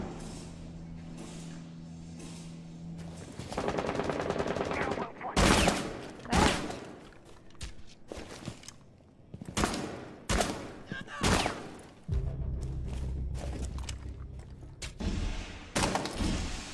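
A G8A1 machine gun fires in Rainbow Six Siege in several loud, rapid bursts separated by short pauses, with quieter in-game ambience between the bursts.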